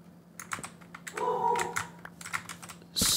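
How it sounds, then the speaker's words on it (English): Loud computer keyboard typing in irregular bursts of clacky keystrokes, close by, with brief pauses and a louder clatter at the end. "I know my keyboard is loud."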